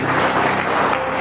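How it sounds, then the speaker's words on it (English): Wedding guests break into dense, steady applause at a reception for the couple, loud and continuous throughout with no pause. "Huge round of applause for him, ladies and gentlemen."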